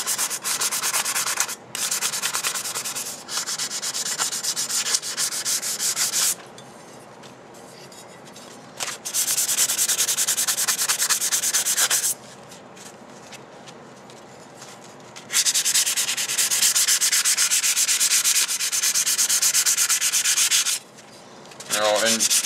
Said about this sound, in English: if you're going to sand it or use steel wool, you want to go, if there's a such thing, go with the grain of the steel